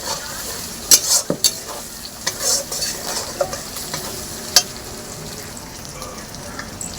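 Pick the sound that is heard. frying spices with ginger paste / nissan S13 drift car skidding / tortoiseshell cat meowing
frying spices with ginger paste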